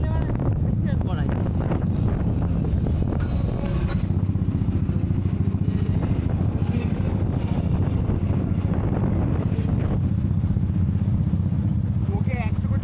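Heavy wind buffeting and motorcycle engine rumble fill the whole ride recorded on a DJI Action 4 camera, loud and continuous, with people talking over the roar.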